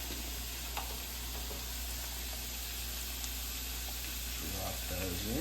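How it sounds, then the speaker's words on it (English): Pasta sauce with red pepper flakes being stirred in a pan, a steady hiss with faint scraping under constant low hum, a brief voice-like murmur near the end. "And then I'm gonna stir this up a little bit"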